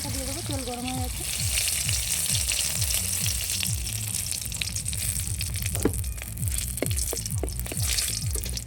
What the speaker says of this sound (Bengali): এবার লঙ্কা দিয়ে দেবো, তেল গরম হয়ে গেছে।